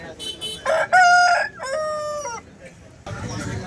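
A native country rooster crows loudly nearby at a Vijayawada poultry market, a drawn-out call, with clucking and other fowl noises around it and some background rustling afterward.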